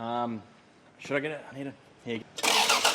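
A blown 7M Supra engine cranks and fires up loudly at the end, after several people talk nearby in a garage.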